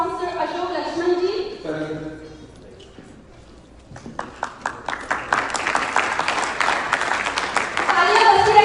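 Audience applause at a stage event abroad where sponsors are invited up, a voice speaking at first, then a quiet gap, then clapping building into a dense, steady round that grows louder toward the end.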